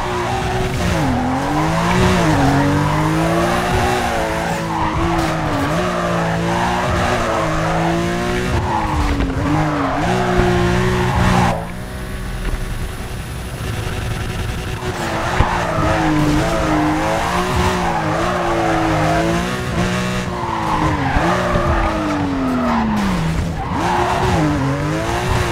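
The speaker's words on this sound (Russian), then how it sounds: "Попробуй тогда подрифтовать по нему." In Need for Speed Carbon, a car with a Lamborghini engine roars with repeated rising and falling revs as tires squeal through long drifting slides, with a brief lull midway before the screeching resumes.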